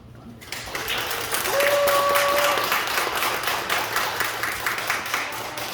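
Church gathering at a retreat applauds in thanks for a visiting professor, clapping swelling after a brief quiet start and continuing steadily, with some voices and a tone audible underneath.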